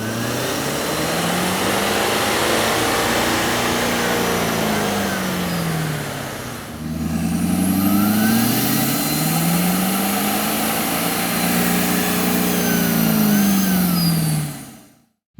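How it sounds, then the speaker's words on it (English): A 6.7L diesel Ford F-250 Super Duty with a K&N air intake revs up and down in long sweeping cycles, pauses briefly, then revs again with a throaty intake roar before cutting off. "You can really see and hear the difference the K&N air intake system will make to your truck."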